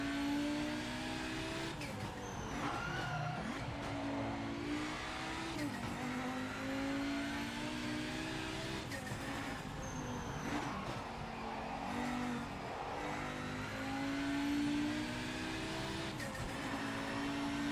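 A race car engine in Project Motor Racing revs and shifts continuously, pitch rising and falling through gear changes with occasional tire noise, loud and steady throughout.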